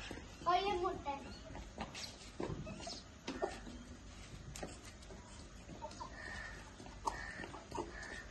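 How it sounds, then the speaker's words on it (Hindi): A fighting rooster crows and hens cluck from a nearby flock, mixed with scattered farmyard noise, while a person talks over much of it. "ये हमारा लड़ाई वाला फाइटर मुर्गा है"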